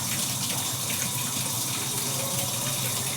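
Tap water runs steadily into a kitchen sink while flowers are rinsed, a continuous close splashing gush with no pauses and no voices.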